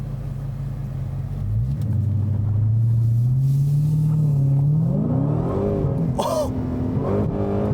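A 2018 Dodge Challenger SRT Hellcat Widebody accelerates hard on the road, its deep engine rising in pitch through a long pull, then shifting and revving again, heard close from inside, with a brief exclamation.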